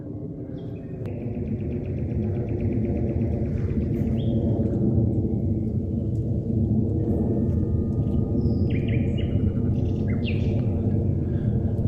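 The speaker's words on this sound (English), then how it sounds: "The only sounds are birds and the crunch of leaves beneath their feet" Birds call in a forest: scattered high chirps and tweets, fairly faint, over a steady low rumbling background.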